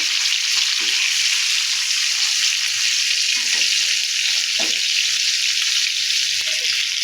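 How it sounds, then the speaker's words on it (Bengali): Stinging catfish fry in hot oil, giving a loud, steady, close hiss that runs unbroken throughout, with a few faint clinks underneath. "এখানে তেল বসিয়ে গরম করে নিয়েছি এবার মাছগুলো দিয়ে দেব মাছগুলো দিয়ে দিলাম"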